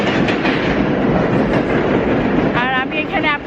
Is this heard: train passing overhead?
yes